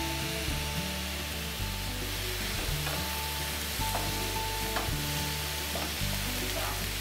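Tomatoes cooking in a hot pan, a continuous loud sizzle and fry hiss with steady stirring and scraping sounds running throughout.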